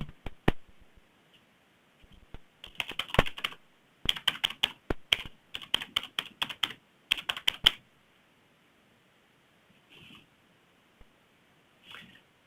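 Password data goes in on a computer keyboard: close, crisp key taps in quick bursts with short pauses, then a few isolated presses near the end.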